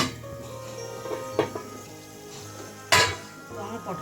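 A metal lid clanks onto a pot of potol dorma cooking on the stove, with a couple of clear clinks and one louder clatter amid a soft background hum.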